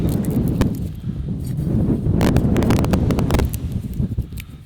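Strong wind buffets the microphone outdoors as a Kelly Kettle is lit with a lifeboat match, a steady loud rushing roar with gusts and a few faint rattles, no talking.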